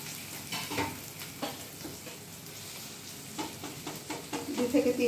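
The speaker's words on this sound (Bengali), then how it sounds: "একটু সময় এটা কম আঁচে ভাজা হবে।" Chopped capsicum fries gently over low heat in a wok, a soft continuous sizzle with intermittent stirring scrapes that grow louder toward the end.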